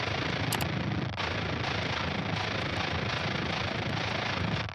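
A distorted, crunchy layer from the Odin III synth plugin, built for a Thall-style metal breakdown. It plays as one dense, loud, unbroken wall of fuzz for about five seconds, with no pauses and no voices.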